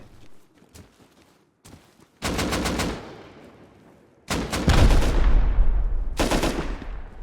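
Heavy gunfire in the game Rust as a player shoots a way open, with scattered single shots first, then loud rapid bursts, the last bursts booming and close.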